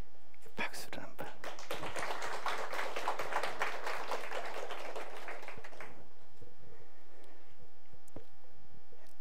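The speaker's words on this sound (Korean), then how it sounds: "박수를 한번." A church audience claps together at a Sunday service, a dense burst of many hands lasting about five seconds before it fades to quiet room hum with a few scattered taps.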